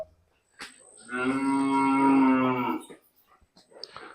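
A single drawn-out moo from a heifer, close and loud, lasting about two seconds, with quiet pauses before and after.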